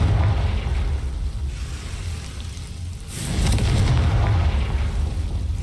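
Booming blast from the Confringo fire spell in Hogwarts Legacy: a broad roaring burst near the three-second mark over a continuous heavy rumble, loud and without speech.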